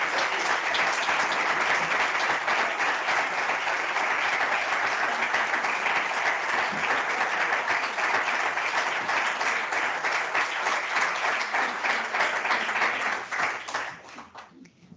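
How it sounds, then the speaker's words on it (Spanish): Sustained, dense applause from a large audience at a World Meteorological Day celebration, steady and loud for many seconds before tapering off sharply at the end. "Un aplauso grande."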